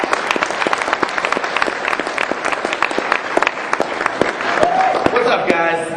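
A conference audience at Toorcon 2007 gives dense, steady applause as speaker Dan Kaminsky comes on stage. The loud clapping fills the room, with a brief cheer or whistle rising near the end.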